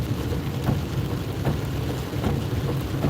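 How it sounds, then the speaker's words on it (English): Rain falls steadily on a car, making a dense even wash of patter heard from inside the vehicle with no talking. "it's raining"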